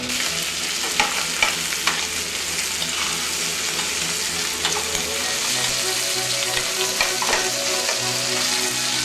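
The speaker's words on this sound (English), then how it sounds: "on your second batch of bacon while it's cooking" Bacon frying in a pan on a stove, a steady dense sizzle with crackling pops and occasional scraping stirs throughout, fairly loud and close.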